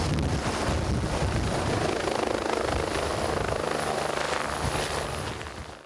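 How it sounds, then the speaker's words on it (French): A Rega rescue helicopter flies over a hospital, its rotor and engine roar loud and steady overhead for several seconds before easing slightly at the end. "L'hélicoptère de la Rega survole le centre hospitalier Bienne."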